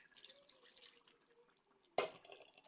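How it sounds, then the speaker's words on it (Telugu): After quiet kitchen clinks, water splashes into a pot of fish pulusu (tamarind fish curry) in one short, sudden pour, then trickles and fades. "సో కొంచెం వాటర్ కూడా వేసుకుంటే పులుపు అనేది సెట్ అవుతుంది. వాటర్ వేసుకుంటున్నాను."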